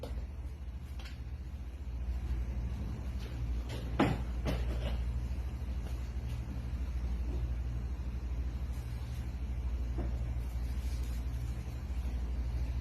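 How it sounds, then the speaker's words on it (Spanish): The drive motor of an LG TurboDrum washing machine on its spin cycle, a low steady rumble and hum that strengthens after a couple of seconds and holds, with a few light knocks and clicks. "Ahí prendió lo que es el motor drive, se activa el motor drive."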